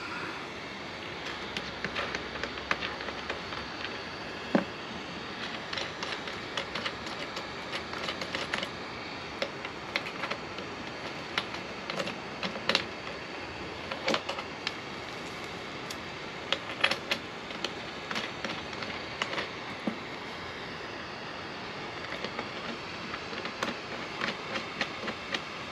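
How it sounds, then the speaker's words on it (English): A heat gun shrinks heat-shrink tubing on an RV battery cable, giving a steady, fairly quiet blowing hiss throughout, dotted with small scattered clicks and rattles, with no voices. "now I need to get the heat gun and shrink that down"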